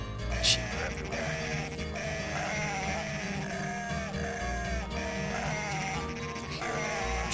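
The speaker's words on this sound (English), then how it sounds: "The sheep are everywhere." Sheep bleating in the Dreamcast herding game Cool Herders, repeated short bleats over busy game music and effects, fairly quiet overall with no talking.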